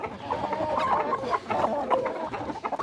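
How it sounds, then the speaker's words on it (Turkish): Chickens of a Turkish dönbaş breed cluck in a farm coop, a steady run of close, moderately loud clucks and fowl calls with no talking. "bu bizim meşhur şu tavuk dönbaş tavuğumuz"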